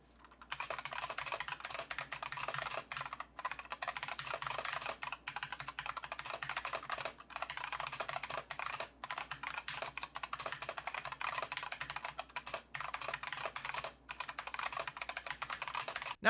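Steady, fast typing on a Glorious Modular V2 Pro mechanical gaming keyboard, close up and fairly quiet, with dense clicky keystrokes and a few brief pauses.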